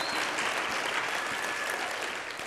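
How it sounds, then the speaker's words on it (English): An audience at a church gathering breaks into brief, dense, steady applause that stays loud throughout, with no talking over it. "give a hand of applause for that"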